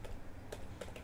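Quick bursts of keystrokes on a computer keyboard enter a command at a Windows 11 command prompt, close and fairly quiet with no talking.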